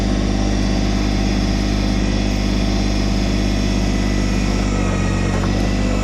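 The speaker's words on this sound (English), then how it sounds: "giving it a little bit of extra revs makes it actually easier to operate" A Kubota BT602 backhoe's diesel engine runs at raised revs, a steady loud close drone with no talk.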